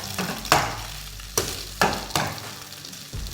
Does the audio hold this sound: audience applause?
no